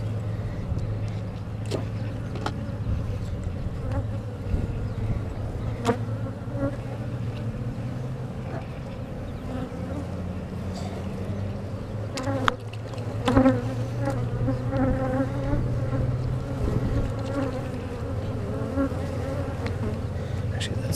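Constant close buzzing of a mass of honeybees on a hive frame during a hive inspection, steady and droning, punctuated by a few light knocks and scrapes.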